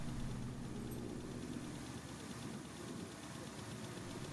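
A 2013 Ford F-150 with the 5.0L engine idles steadily just after an oil change, a constant low rumble with no talk over it.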